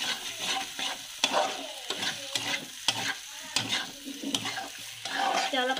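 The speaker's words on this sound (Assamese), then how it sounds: "মছলাখিনি ধুনীয়াকৈ ভাজি লৈছোঁ" Spices and potatoes for an egg curry fry and get stirred in a pan, a close, busy sizzle broken by repeated scraping strokes and clinks of the utensil at an uneven rhythm.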